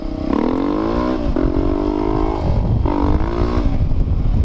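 A tuned Honda Falcon motorcycle engine revs hard on a track, loud and close, with rising and falling throttle blips and a rough mechanical rattle underneath.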